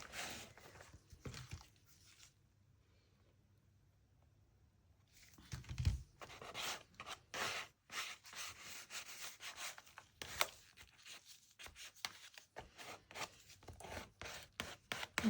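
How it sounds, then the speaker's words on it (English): Scraping paint across an art journal page, a run of dry rubbing and scratching strokes up close, loudest after a brief quiet stretch, with no talking. "use this to scrape some of the paint so it doesn't look perfect"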